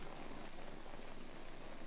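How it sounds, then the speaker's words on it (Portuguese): Heavy rain pours down in a dense, steady hiss with no breaks, even and enveloping throughout. "No novo megacontinente perto do Havaí, chove a cântaros durante um mês."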